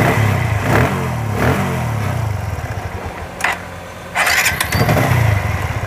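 A TVS Apache RTR 160 motorcycle with a self-start problem is cranked and started in neutral on a repair bench, with several short starter bursts before the engine catches and settles into a close, steady idle.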